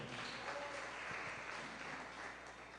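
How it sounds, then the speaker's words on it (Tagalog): A church congregation claps loudly for the Lord during a JMCIM preaching service, with dense, continuous applause from many hands under a faint hum of voices. "pumalakpak ng malakas sa ating mahal na Panginoon"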